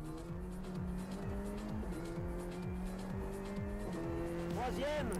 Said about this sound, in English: And then slam on the brakes.